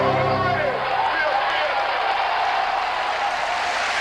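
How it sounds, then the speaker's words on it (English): Polite, steady applause from the arena crowd at an ice dancing Grand Prix Final, a broad even wash of clapping that carries on throughout with no other sound standing out. "It's more of a wine and cheese opera clap and applause from the Canadian crowd here"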